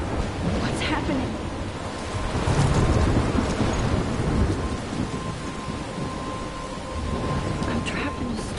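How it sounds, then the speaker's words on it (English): A video game thunderstorm near a lighthouse, with steady heavy rain hissing throughout and low rolling thunder swelling in the middle, loud and dense, with no talk. "I'm trapped in a storm?"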